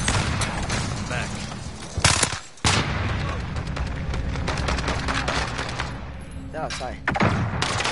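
Gunfire in the shooter game Call of Duty: Warzone, loud and close sustained bursts of automatic rifle fire with heavy thumps and short breaks, a voice briefly speaking over the shooting.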